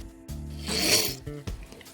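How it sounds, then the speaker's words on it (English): A coarse file runs over the rough end of a clock pin held in a pin vise, making a couple of short, close rasping strokes separated by brief pauses. "with a coarser file, run over the rough point on the end while turning the pin vise in your fingers"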